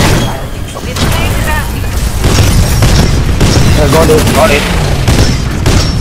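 Gunfire and booming blasts in the sci-fi shooter Bounty Hunt Exoplanet, loud, dense and continuous, with a player talking over it.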